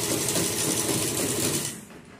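A sewing machine runs steadily as it stitches a dress, a close, continuous whirring hum that stops abruptly near the end and leaves quiet room tone.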